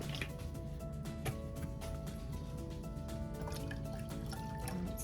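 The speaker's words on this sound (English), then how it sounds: "pour what I've got of apple cider vinegar" Apple cider vinegar pours into a measuring cup for barbecue sauce in a soft, continuous trickle with small drips and splashes, quiet and close over faint kitchen background.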